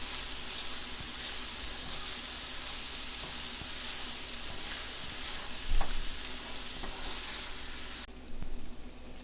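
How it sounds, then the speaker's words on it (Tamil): Vegetable pasta is stirred in a hot pan, a continuous moderate sizzle with scraping and a couple of louder clatters of the spoon near the middle and end. "ஒன்று போல் வர்ற மாதிரி கிளறி விட்டுருவோம் ஈவனாக."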